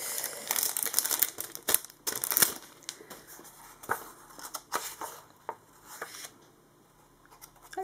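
Tissue paper from an AliExpress parcel crinkles and rustles in a string of sharp, close, irregular bursts, loud at first and then thinning into sparser crackles.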